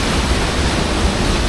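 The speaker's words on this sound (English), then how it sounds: "Hopefully the waterfall up there should look as impressive as this." Steady rushing roar of Dolgoch Falls, a woodland waterfall in North Wales, a broad constant wash of falling water with no other sounds.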